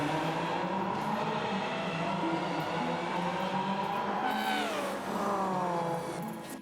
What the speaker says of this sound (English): the chase scene where all the cars drive off into the distance